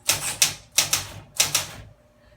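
A typewriter clacks in quick clusters of keystrokes, close and crisp, in three bursts separated by short pauses.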